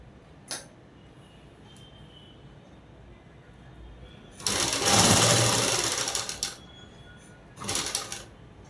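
A sewing machine stitches the end of a seam on a collar-neck dress, running in a loud steady burst of about two seconds, then a shorter burst after a pause, with faint clicks in the quiet between.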